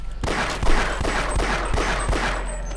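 Enemy gunfire in the video game Half-Life: loud, rapid bursts of shots stacked over one another, continuous and close with no pauses.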